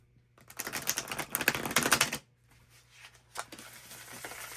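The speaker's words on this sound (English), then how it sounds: "That last one wasn't a good shuffle. This is an awkward sized deck." An awkwardly sized deck of cards is shuffled in a dense burst of rapid riffling flutter lasting about two seconds, close by, followed by a few softer card taps.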